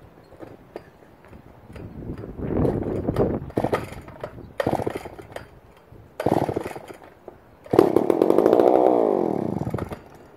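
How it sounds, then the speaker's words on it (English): An old McCulloch 550 chainsaw being pulled and firing up on tank fuel outdoors, several short sputtering catches and bursts followed by a louder revving run that rises and falls before cutting out, with wind noise between attempts. "We're going to see if the Mcculloch 550 will fire up here, run on tank fuel."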